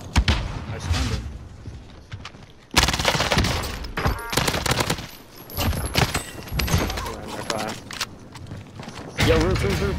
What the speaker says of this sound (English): There's literally just shooting here.